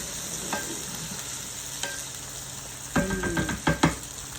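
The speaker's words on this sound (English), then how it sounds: "Now we're putting our tomatoes in. And we are going to cook this down until these are nice and soft" Tomatoes cook down in a pan for a tomato medley toast, giving a low steady sizzle with a few stirring scrapes and clunks near the end, close and moderately loud.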